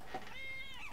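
A baby kitten gives one short, high meow up close, and a voice follows right after it.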